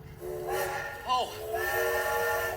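A train whistle sound effect sounds during a school stage production of The Wind in the Willows, a bright tonal toot rising then sliding down, followed by a longer steady whistle tone under the hushed hall.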